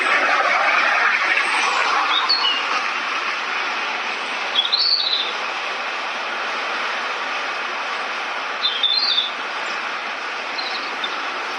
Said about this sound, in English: enjoying the bird sounds as well